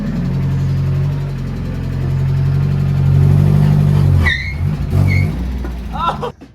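A Mazda Miata engine with an exhaust leak runs steadily at a low, throbbing note, rising slightly mid-way, while people talk close by toward the end.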